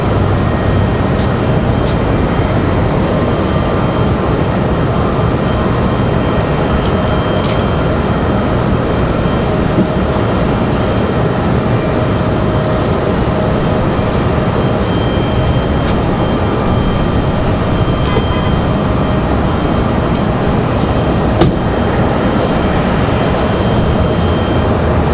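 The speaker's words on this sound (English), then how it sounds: "Little E175 departing." A Delta Connection Embraer E175 jet departs from Raleigh-Durham airport, its engines making a loud, steady roar with a broad rumbling hiss that holds throughout, heard from fairly close.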